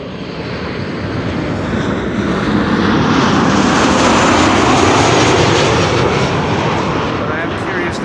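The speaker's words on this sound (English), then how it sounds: "That's the A380." An Airbus A380 landing at Amsterdam Schiphol: loud, steady jet roar that swells toward the middle and then eases slightly, heard nearby under someone talking.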